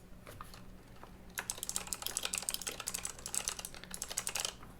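Fingers type on a computer keyboard in quick, uneven bursts of close, crisp key clicks, starting sparse and then picking up into steady rapid typing, with no talk over it.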